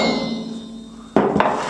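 A hammer strikes a tool threaded onto an Echo CS-590 Timberwolf chainsaw, two sharp metallic blows in quick succession after a quiet hum, the second slightly softer.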